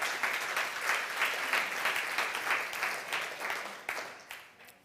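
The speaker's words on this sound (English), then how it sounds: "A round of applause to Anna and Mr. Thomas, their contribution." Audience applause at a marketing meeting, a steady wash of many hands clapping throughout that thins slightly toward the end, with no talking over it.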